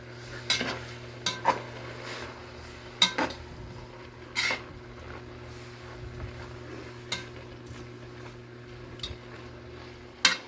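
Salted labong, bamboo shoots cooked in coconut milk, gets stirred in a pot: a spoon scrapes and knocks against the metal in irregular sharp clacks over a low simmering hiss, close and without talk.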